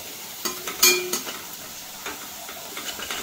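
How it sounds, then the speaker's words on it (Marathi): Sliced onions fry in a pan for prawn biryani, with a low sizzle under irregular metallic scrapes and clinks of a spoon stirring against the pan, close and without speech. "जो उभा कांदा कापलेला तो आता असा फ्राय करून घ्यायचा आपल्याला लाल होस्तोवर"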